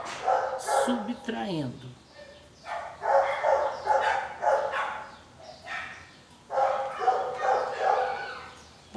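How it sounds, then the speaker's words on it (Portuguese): A dog barks and yips repeatedly in bursts during a live online math class, the barks mixing with a teacher's ongoing speech. "Como a nossa aula é ao vivo, tem cachorro participando."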